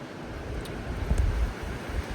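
Gale-force wind in the Columbia River Gorge roars steadily with heavy low rumbling buffets against the microphone, loud and continuous with no voices.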